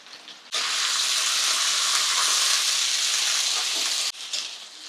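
Garlic, two medium onions and curry leaves hit a hot pan for drumstick palya and burst into a loud, dense sizzle that holds for several seconds before dropping back to a softer crackle.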